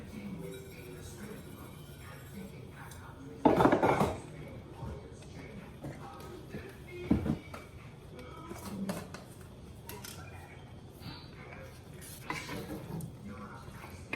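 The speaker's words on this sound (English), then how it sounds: "Melissa's stirring this soup for me" Soup is stirred in a pot with a spoon, producing soft scraping and a few louder clinks against the pot under quiet kitchen background.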